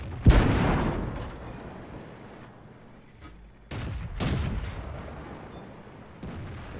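Tank cannon fire in World of Tanks from a Chaffee light tank. A loud, close boom opens the clip, followed by two more heavy shots with rumbling tails a few seconds apart, with no talk over them.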